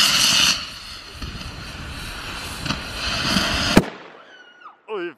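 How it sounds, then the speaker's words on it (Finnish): A rocket firework launched straight from a hand at an army training area gives a loud rushing hiss that ends in a sharp bang, followed by fainter crackles and whistles, all heard close up. "nyt Pertti Expertti räjäyttää raketin suoraan kädestä."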